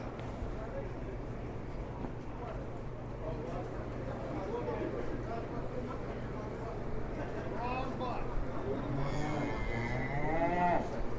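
Cattle mooing at an open livestock show in 2021 with heifers and calves on halters, several long moos rising over crowd murmur and a loudspeaker voice, with low hall rumble throughout.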